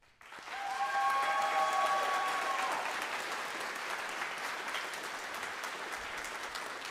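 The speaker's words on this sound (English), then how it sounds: "So we'll give them a round of applause in just a moment." An audience at a 2024 school spring concert and awards night applauds students with a sustained, dense wash of clapping that swells quickly and holds steady, close and fairly loud throughout.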